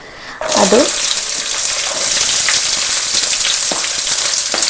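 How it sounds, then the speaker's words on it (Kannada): Mustard seeds, cumin and poppy seeds fry in hot oil with onion tipped in, cooking for an eggplant palya; a loud, dense, steady sizzle bursts in after a brief quiet start and carries on without pause. "ಸಾಸಿವೆ ಮತ್ತು ಜೀರಿಗೆ ಸ್ವಲ್ಪ ಫ್ರೈ ಆದಮೇಲೆ ಅದಕ್ಕೆ ಸ್ವಲ್ಪ ಒಂದು ಅರ್ಧ ಸ್ಪೂನಷ್ಟು ಗಸಗಸೆನ ಹಾಕ್ತಾ ಇದ್ದೀನಿ"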